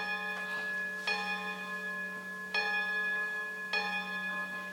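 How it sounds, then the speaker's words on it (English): A bell rings three times at slow, even intervals, each strike bright and ringing out over a steady low hum, fairly faint and distant. "Ring the bell."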